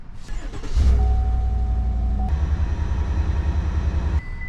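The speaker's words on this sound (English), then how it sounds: "we're gonna start the truck up" A truck engine cranks and catches, then settles into a loud, steady low idle running close by, with a sharp shift partway through.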